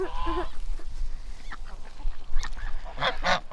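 Two cream geese honk on a farm with livestock pools, giving repeated loud, rough calls that rise toward the end over low background noise.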